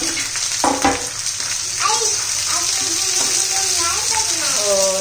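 Okra sautéing in hot oil in a pan for a quick okra and potato dish, a close bright sizzle with stirring and a few clanks, steady from start to finish.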